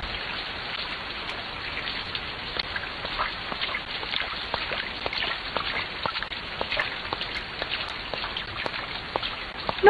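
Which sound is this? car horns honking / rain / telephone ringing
rain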